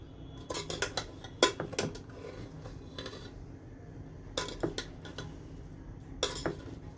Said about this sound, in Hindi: हम इसको नीचे से ऊपर की तरफ मिक्स करेंगे।